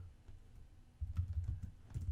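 A computer keyboard clatters as code is typed for an ESP32 MicroPython project. Keystrokes come in quick, uneven bursts that grow louder and denser halfway through, with no voices.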